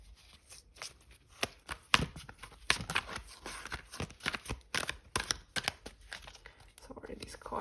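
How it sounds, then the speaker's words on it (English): Crisp riffling and snapping of a large tarot card deck being shuffled by hand, irregular bursts of flicks close to the microphone, fairly quiet with faint room noise. "these cards are a lot and it's not so easy to shuffle them"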